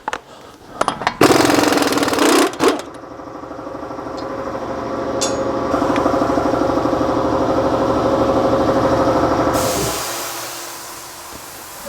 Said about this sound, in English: We're going to get this axle nut off first.